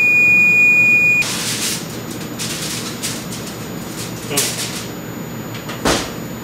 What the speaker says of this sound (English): the timer just went off, so I'm gonna go ahead and get that out of the oven